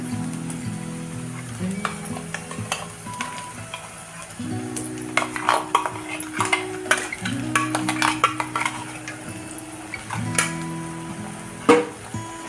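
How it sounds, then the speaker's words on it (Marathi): Spatula scraping and stirring fried onion with ground masala paste in a pan for veg korma, repeated metallic clinks and scrapes over a soft sizzle, with a low humming tone underneath. "हे सर्व मिक्स करून घ्यायचं थोडा हे असं मिक्स करून घ्यायचं"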